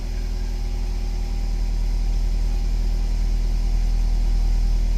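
A 2007 Toyota RAV4 with a stalling, rough-running engine and multiple circuit faults idles steadily, a close, continuous hum and rumble with no voices.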